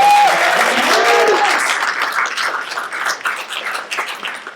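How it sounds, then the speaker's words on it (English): An audience bursts into loud, dense applause that slowly thins and softens, a few cheers and whoops mixed in near the start. "Also give Phillip an extra round of applause because he's done a whole lot to make sure"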